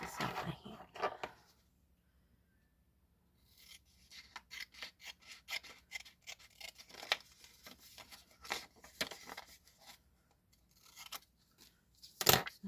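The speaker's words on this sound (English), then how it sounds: "let's just cut this out by hand" Paper being cut by hand with scissors for an altered envelope, soft close snips and rustles that come in an irregular rhythm after a quiet pause.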